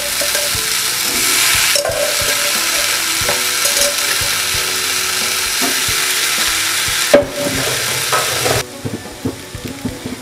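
Cooked tapioca being stirred and tossed in a hot frying pan, with a steady sizzle of frying running throughout and scattered knocks of a utensil against the pan, dropping off briefly toward the end.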